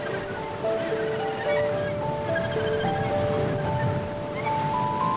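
Steady surf rolls onto Muriwai beach, a huge rock-ringed shore in New Zealand, giving a continuous broadband wash with a sustained musical tone running through it throughout.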